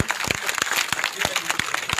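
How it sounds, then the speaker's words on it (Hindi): Audience applause welcoming a member of parliament at a ward event in Nawalgarh, a dense burst of claps close by, with faint voices underneath. "हम सभी तालियों के माध्यम से स्वागत करते हैं"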